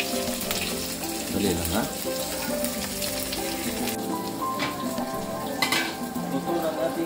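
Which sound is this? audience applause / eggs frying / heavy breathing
eggs frying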